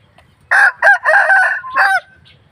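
A ten-month-old fighting rooster crows loudly and close by, one full call broken into several strained bursts over about a second and a half.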